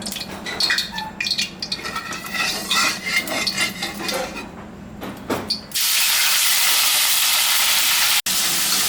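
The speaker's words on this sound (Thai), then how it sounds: "เราจะเอาหมูสามชั้นลงไปเจียวให้กรอบนะฮะ" Pork belly pieces fry in hot lard in a pan for Thai roasted chili paste. Utensils clatter and scrape at first, then a loud, steady hiss of sizzling fat takes over and fills the second half.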